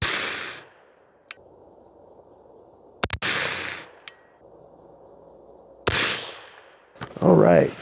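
Rifle shots from a 5.56 load using Winchester brass, with several sharp loud reports spaced a second or more apart, each cracking over a quiet outdoor background, and a brief voice-like sound at the end.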